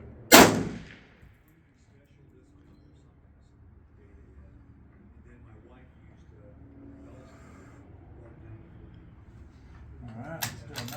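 A single loud magnum rifle shot booms at the start, then decays into a long quiet stretch with low rumble and faint movement.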